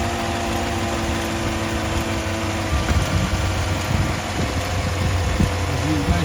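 A 2019 GMC Sierra engine idles close by as a steady low rumble, with some clattering handling noises partway through.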